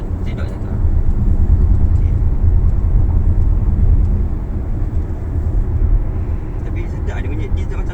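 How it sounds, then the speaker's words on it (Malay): A Proton X50's three-cylinder engine drones as a low, steady rumble heard from inside the moving car, fairly subdued and constant throughout. "Dia macam tak kuat mana dia punya bunyi 3 silinder."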